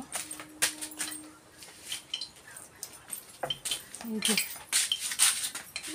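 A spoon clinks against a dish of fish curry made with big pieces of fish and ridge gourd, with light scattered taps and clatters close by and faint background noise.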